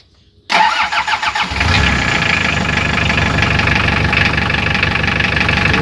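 Toyota Liteace KM36 engine being started during a radiator flush: a brief cranking whir catches into a loud rumbling start, then settles into a steady, close, even idle.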